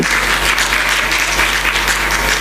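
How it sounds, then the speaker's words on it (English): Sustained applause from a large audience at an evening awards ceremony honoring women achievers, a dense steady wash of clapping filling the room without a break. "Let's hear a huge round of applause for all the amazing Savvy women here tonight."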